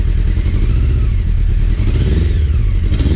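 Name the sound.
Honda CBR600 F3 motorcycle engine idling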